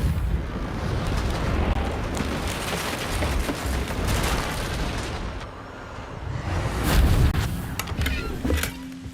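Heavy, continuous rumbling explosion from the Bombarda spell in a wizarding video game, dense and roaring throughout with a swell near the end.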